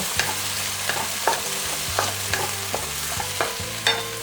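Tomatoes tossed into hot oil in a pan and stirred, a steady sizzle under repeated scraping and clacking strokes of a utensil, close and fairly loud, with no voices.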